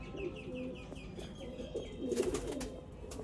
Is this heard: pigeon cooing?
yes